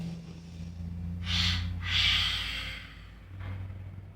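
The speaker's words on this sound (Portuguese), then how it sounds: "Vamos soltar o ar em 2 tempos." Guided breathing exercise: two distinct, close breaths pushed out through the nose and mouth in separate counts, then a softer third breath, over a low steady background hum.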